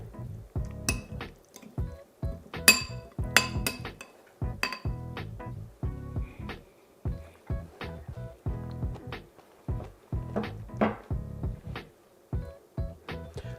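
A utensil stirs a feta and portabello omelette mixture in a dish, giving a steady run of light clinks and scrapes against the bowl at close range, with no talk.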